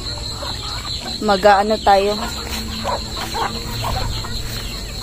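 Chickens clucking nearby with a short burst of vocal calls early on, while a person speaks briefly and insects chirp in the background.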